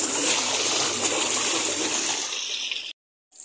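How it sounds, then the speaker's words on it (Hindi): Rinse water pours steadily into the tub of a washing machine, a loud, close rushing splash that runs for nearly three seconds and then stops abruptly. "नहीं अभी ये खंगालने वाला पानी डल रहा ना इसमें"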